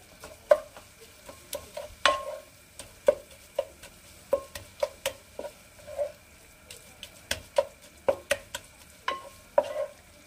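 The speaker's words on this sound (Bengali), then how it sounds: "এটা আবার ভালো করে মিশিয়ে দেবো" A capsicum, potato and mushroom mixture being stirred in a pan with a spatula, giving close, rhythmic scraping strokes roughly every half second over a low sizzle.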